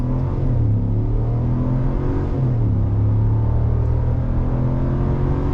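A 2022 RAM 1500 Rebel HEMI V8 pickup with two people aboard launches from 0 to 60 in all-wheel drive mode, giving a loud, steady engine roar heard from inside the cabin, with a gear change partway through.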